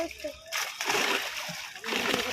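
Big catla fish let go into a pond, a burst of splashing water at close range with a second slosh, amid voices talking.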